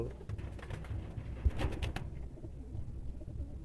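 Pigeons of Pakistani blood line coo in low, soft bursts, with a few sharper flutters or calls in the middle; no one speaks.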